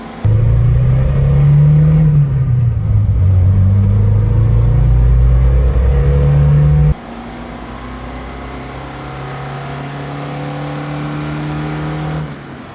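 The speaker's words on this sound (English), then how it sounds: "That's about 30 miles an hour. And it is just not accelerating anymore." A 1994 Lada Niva's engine drones loud and close from inside the moving car, its pitch wavering and climbing under load before a sudden drop to a quieter, slowly rising hum as it struggles to gain speed.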